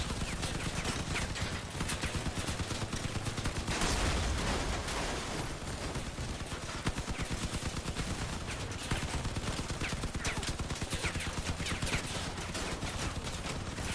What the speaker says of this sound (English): I think I'm better off with the 3 machine guns.